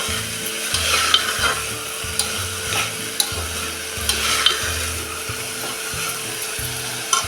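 Fresh shravan ghevda beans being sautéed in a pan, repeated rhythmic stirring and scraping strokes over a soft sizzle, close and fairly loud, with occasional sharp utensil knocks and no talking.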